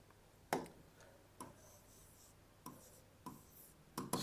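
A pen scratches across paper while a maths solution is written out, sounding as short separate strokes with pauses between them, close-up and quiet, with no voice over it.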